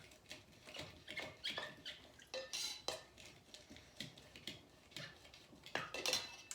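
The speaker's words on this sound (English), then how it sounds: "we're going to now muddle our ginger and our peppers with the lime juice and the syrup" Ginger and peppers muddled with lime juice and syrup in a cocktail glass, producing soft, repeated pressing and tapping with light wet squeaks, fairly faint and steady.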